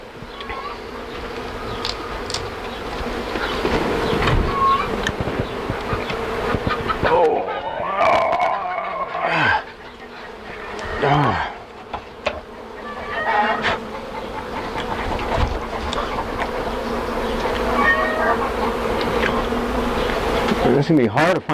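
Honey bees swarm around a hive being removed from a shed, a dense, loud, close buzzing drone that goes on throughout, with wings whirring past and a voice talking now and then underneath.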